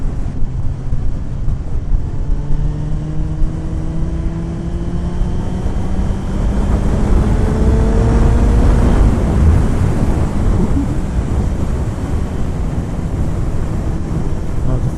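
A vehicle engine on a road ride pulls hard through third gear, its rising drone climbing steadily in pitch under strong wind rush, loud and continuous throughout.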